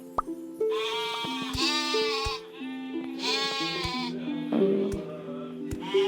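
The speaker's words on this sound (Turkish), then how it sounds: "Bu koyunmuş." Sheep in the Mini World video game bleat repeatedly in short wavering cries over a steady electronic game tune, with several bleats close together and fairly loud.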